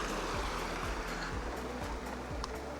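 The Dragonja river flows under a stone bridge, a steady, continuous rush of moving water heard close and evenly throughout, with no voices.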